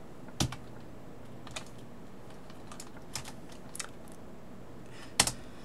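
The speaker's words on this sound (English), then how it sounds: "let me switch over to my Japanese keyboard" Sparse, scattered key clicks on a PC computer keyboard, a few isolated taps with pauses between them, close and fairly quiet, no voices.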